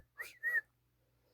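A man whistles twice to call his dog, two short rising-and-falling whistle notes close together, fairly faint and alone with no talk.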